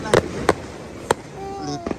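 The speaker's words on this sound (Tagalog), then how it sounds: "di pa tapos yung fireworks display" Fourth of July fireworks burst in three sharp, distant bangs spaced apart outdoors, followed by a few fainter pops, with quiet voices in the background.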